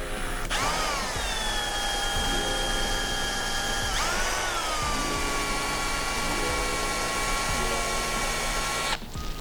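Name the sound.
power drill drilling a hole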